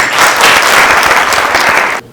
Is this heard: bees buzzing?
no